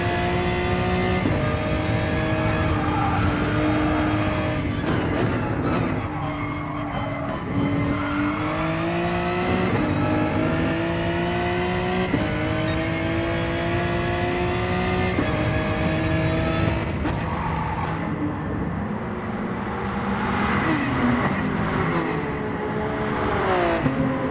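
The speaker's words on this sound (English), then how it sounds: "Adam Merchant in the Porsche 911 is actually going to let us pass" A Porsche 911 race car in an FIA manufacturer series round, its engine revving hard and climbing through the gears, with pitch rising and falling as it shifts. The sound stays loud and close throughout, with no talking.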